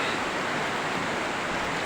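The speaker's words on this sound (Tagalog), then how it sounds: "Nandito ako ngayon sa ilog ng Suaga." Steady rushing water of the Suaga river flowing nearby in hot weather, a continuous broadband wash of current with no pauses, fairly loud and alone.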